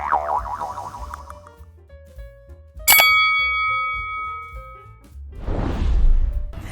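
A notification bell rings once as a sound effect: a single sharp metallic ding with a ringing decay, preceded by light chiming tones and followed by a soft whoosh.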